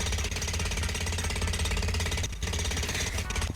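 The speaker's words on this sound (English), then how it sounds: "Jackhammer." A jackhammer in the video game Gorilla Tag hammers in a rapid, continuous mechanical rattle, loud and close, with a brief dip partway through before the pounding resumes.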